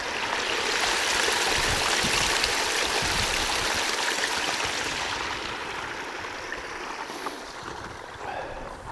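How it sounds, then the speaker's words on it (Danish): A freshwater spring trickling out toward the sea on a winter coast at Mols Hoved, Denmark, a soft, steady watery rush heard close, slowly fading over the last few seconds, with no voices. "Her er der endnu et kildevæld, der søger ud mod havet."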